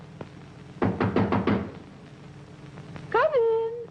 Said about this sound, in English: Hark! Who knocks?